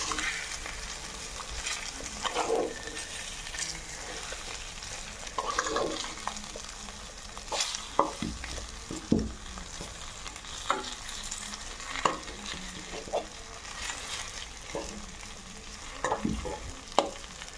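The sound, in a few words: fish frying in a pan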